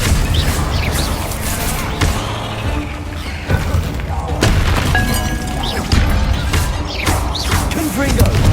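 Fire spell cast in the Hogwarts Legacy game, a burst of booming, crashing impacts and thuds repeated through a dense, loud battle mix.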